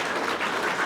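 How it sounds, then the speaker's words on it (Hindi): Applause rises from a school audience at a motivational program in a government senior secondary school in Mohanpura Balaji, Kishangarh Renwal: a dense, steady wash of many hands clapping together, filling the brief moment without a break. "जोरदार तालियां इनके लिए।"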